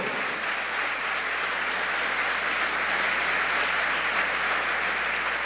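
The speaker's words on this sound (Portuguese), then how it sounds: "Aplauda o Senhor." A church congregation claps and applauds continuously, a dense, even roar of many hands that stays loud from start to finish.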